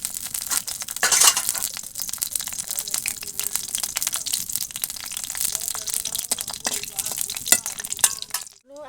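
Whole dried red chillies and bay leaves crackling in hot oil in a pan for a cabbage and fish-head ghonto, a steady dense sizzle with sharper spits and pops, ending abruptly.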